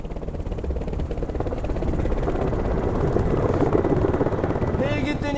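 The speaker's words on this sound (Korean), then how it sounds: "헬기 뜨니까 대피하세요." Rescue helicopter lifting off from a mountainside at 836 m on Bukhansan, a loud steady rotor whir and engine drone building over several seconds while people shout nearby.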